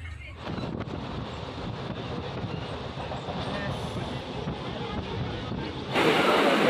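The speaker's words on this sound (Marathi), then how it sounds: "बघा ट्रेनला आहे थोडीफार गर्दी।" A commuter train at a suburban station, its carriages rumbling and clattering steadily with wind buffeting the microphone, then a louder rushing surge near the end.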